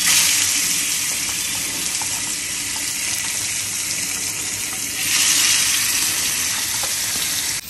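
Fish laid into hot oil in a frying pan with onion and green chilli, giving a loud, steady, bright sizzle that holds for several seconds and swells again near the end.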